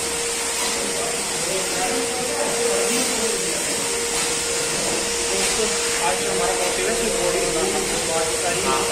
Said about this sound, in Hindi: यहाँ पर चल रही है ये मशीन वैक्यूम क्लीनर जैसा शोर में चल रहा है